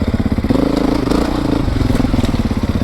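A 2024 Beta 430RR dirt bike engine running in rain mode, a loud, close, harsh mid-pitched drone with a steady pulsing rhythm and slight throttle swells, no voices over it.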